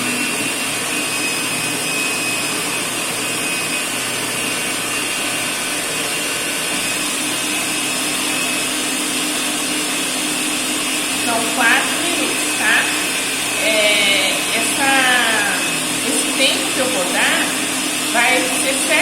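An electric mixer beats eggs with sugar for a sponge cake batter, giving a steady, close whirring drone throughout. A voice talks over it in the second half.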